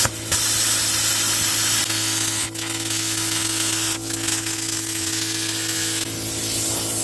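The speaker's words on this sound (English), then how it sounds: "I've got my plasma cutter dialed down a bit" A plasma cutter, turned down in power, slices through the gas tank of a John Deere L110 lawn tractor, giving a steady loud hiss with a droning hum underneath and a few brief dips, with no talking.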